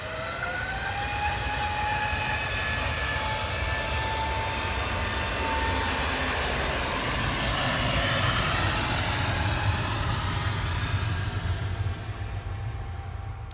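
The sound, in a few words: Airbus A320neo departing Manchester Airport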